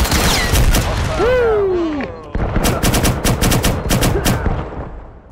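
Automatic gunfire bursts in the shooter game Firewall Zero Hour, loud and close, arriving in rapid repeated volleys after a whooshing pitch sweep, with a player's voice occasionally cutting in.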